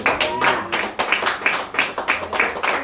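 A church congregation claps together in worship, a regular rhythmic beat of massed hands repeating steadily and fairly close, each clap landing in time with the last.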